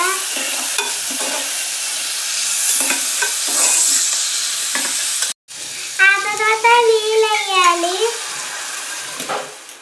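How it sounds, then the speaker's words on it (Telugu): Oil sizzles steadily as chana dal fries with cumin and is stirred in a pan, with a voice speaking over the cooking. "జీలకర్ర కొంచెం వేగిన తర్వాత ఇప్పుడు శనగపప్పు శనగపప్పు వేసి"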